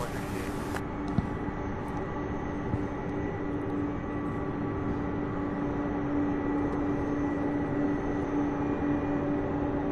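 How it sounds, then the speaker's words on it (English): An MD-11 taxiing at Louisville International Airport, a steady low engine drone with a sustained tonal whine, distant and even across the whole stretch. "an MD-11 taxiing behind it"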